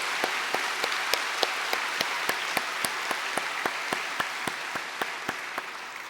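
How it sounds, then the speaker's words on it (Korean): At a Thanksgiving worship service in a Methodist church, the congregation claps together in a steady, evenly spaced beat, a sharp rhythmic pulse of many hands that runs throughout. "우리 하나님께 한 번 더 영광의 박수,"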